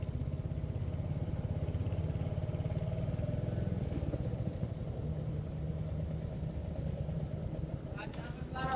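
A motorcycle engine runs steadily at a roadside stop before the Kasara Ghat on a ride to Trimbakeshwar, a low continuous rumble with a voice talking over it.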